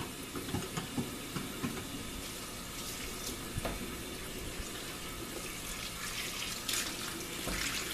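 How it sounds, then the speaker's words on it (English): Running water rinses soap out of a skein of handspun yarn in a sink, a steady broadband rush with small splashes and drips throughout, close and continuous with no voices. "I'm just going to rinse all that soap out"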